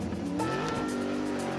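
A cartoon cat car speeds forward with rising engine revving and a drawn-out tire squeal, loud and close, over a steady motor roar.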